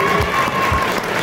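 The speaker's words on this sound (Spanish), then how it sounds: "Les pido un aplauso para Josefina Santa Cruz." Loud applause with some cheering from a crowd honoring chef Josefina Santacruz at a tribute in La Cantina, Palacio de Hierro, heard as a brief dense wash of clapping.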